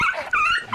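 A dog gives a single brief, sharp vocal burst, close and fairly loud, lasting under a second.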